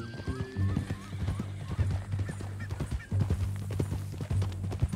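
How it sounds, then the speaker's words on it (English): Steady clip-clop of horse hooves trotting close by in Red Dead Redemption 2, with a horse's whinny near the start over a low musical drone. "That a new horse?"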